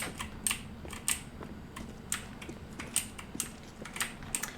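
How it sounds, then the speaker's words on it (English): Steady clicky mechanical keyboard typing, keys struck in uneven bursts with occasional louder clacks, close by, no voices. "apologize for the keyboard noise"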